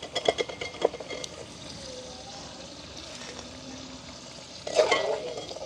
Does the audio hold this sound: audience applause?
no